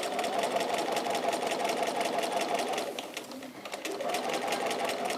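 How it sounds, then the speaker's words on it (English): A sewing machine stitches a quilt along a marked line with quilt-as-you-go templates, a steady rapid mechanical whir with fast needle ticks running throughout, close and even, briefly easing midway. "because we can see exactly what the needle's doing. And we just stitch on the line."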